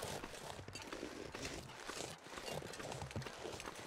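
Footsteps crunching steadily through a quiet survival game environment, a continuous rhythmic patter of steps at moderate distance with no talk over them.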